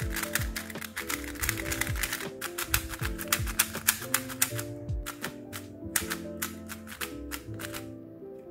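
A Gan 356 Air SM speed cube is turned rapidly by hand, giving a fast run of crisp plastic clicks and clacks, close up and continuous, with faint tonal music underneath.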